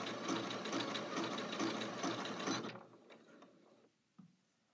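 A Janome Skyline S7 sewing machine runs a short burst of steady, rapid stitching, close and loud for nearly three seconds, then stops, leaving faint handling clicks and a brief knock.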